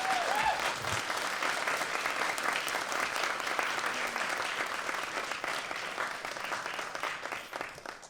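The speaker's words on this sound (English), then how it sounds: "Let's give our filmmakers another round of applause." Audience at a documentary screening applauding the filmmakers, dense steady clapping from a crowd in a hall, fairly distant and fading slightly toward the end.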